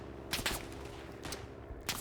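Pistol shots in the World War One shooter Verdun, a few sharp, separated cracks at irregular intervals, fairly faint against a continuous background of battle ambience.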